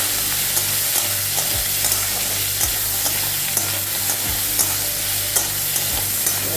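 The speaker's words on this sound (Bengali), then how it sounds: "একটু ভাজা ভাজা করে নেব।" Leafy greens curry frying in a pan with steady sizzling, stirred by a utensil that gives repeated scraping knocks at a close, even level.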